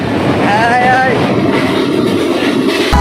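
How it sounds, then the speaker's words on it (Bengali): The Dhaka-bound Silk City intercity train's 753-series locomotive stands at Rajshahi railway station, a loud steady mechanical rumble filling the scene, with a brief wavering tone near the start over busy platform noise. "আমাদের সামনে দাঁড়িয়ে আছে ঢাকাগামী অন্তনগর ট্রেন সিল্ক সিটি 753 সিরিজের লোকোমোটিভ।"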